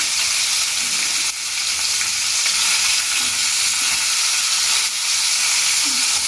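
Rohu fish pieces fry in hot oil with a steady, close, bright sizzle and hiss that runs unbroken throughout, with faint soft clatters now and then.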